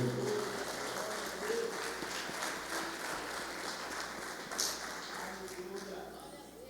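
A church congregation applauds continuously, a dense patter of clapping hands in a large room, rising briefly near the end, with a voice speaking faintly underneath.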